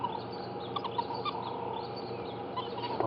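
Wild dog pups twitter in high-pitched, bird-like calls at a sunrise safari sighting, a steady busy chorus of thin chirps over background rustle, fairly faint and continuous.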